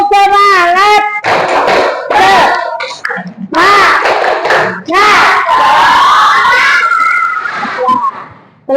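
Grade 5B schoolchildren chant the rhythmic 'tepuk semangat' clapping cheer together, their voices loud and close in unison with bursts of clapping between shouted phrases, filling the classroom for several seconds.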